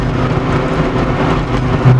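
An Alpine A110 1300 V85 engine pulling hard as throttle is reapplied, a loud continuous in-cabin drone that swells slightly toward the end.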